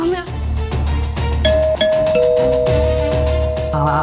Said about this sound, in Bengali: তার মানে নিশ্চয়ই আবির কলিং বেল দিচ্ছে